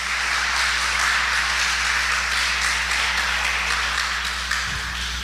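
Congregation applause during a church sermon, a continuous wash of clapping across the whole stretch over a steady low hum, with a faint thump near the end.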